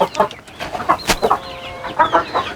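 A broody hen kept in a coop clucks repeatedly up close, loud rhythmic bursts with a rising squawk in the middle.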